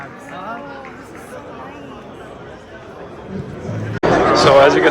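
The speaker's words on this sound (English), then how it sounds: "there's a pretty big crowd around the car" Crowd chatter surrounds a Lamborghini Revuelto on display, a steady murmur of many voices at moderate level that swells into a louder, denser burst of crowd noise near the end.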